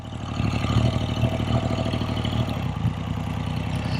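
Triumph T160 Trident three-cylinder motorcycle engine running steadily close by, a low throbbing idle with little change in pitch and no talk over it.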